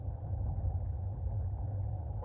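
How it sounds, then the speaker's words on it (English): Steady engine and road rumble inside a car driving through heavy traffic on the Grapevine highway, a continuous low drone at even loudness with no talking. "I'm driving here through the grapevine. Lots of traffic, actually."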